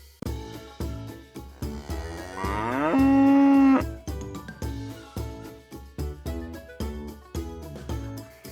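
A cow gives one long, loud, close moo over light background music, the low drawn-out call swelling and then fading away.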